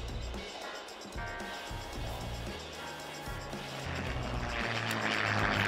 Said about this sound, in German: Nee, das war das Flugzeug.